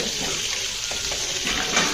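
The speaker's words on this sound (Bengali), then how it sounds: "তেল গরম করতে বসিয়ে দেওয়া হয়েছে ট্যাংরা মাছগুলোকে ভাজা হবে ট্যাংরা মাছটা বেশ ভাজা ভাজা হচ্ছে" Tengra fish fry in hot oil with a dense, steady sizzle, close and fairly loud, and a little bubbling through it.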